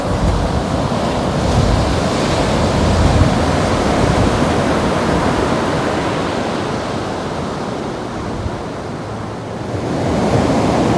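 Ocean surf washing onto a sunny, fairly empty beach, a steady loud broadband roar with rolling swells and some wind buffeting the microphone, continuous for the whole stretch with no voices.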